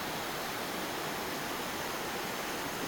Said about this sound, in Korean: 부곡 폭포의 모습인데요.